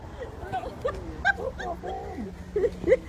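A dog gives short yips and whimpery barks in scattered bursts close by, mixed in with people talking and general crowd chatter outdoors.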